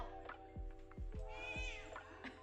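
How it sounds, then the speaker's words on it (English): A cat suffering from cat flu meows up close in a drawn-out, wavering call, over a low steady hum and a few soft thumps. "Mèo kêu sao?"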